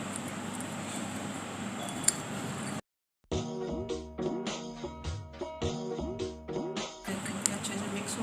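Skin-scrub ingredients are stirred in a small bowl, giving close, rhythmic scraping and clinking strokes with light wet squishes after a stretch of quiet room noise.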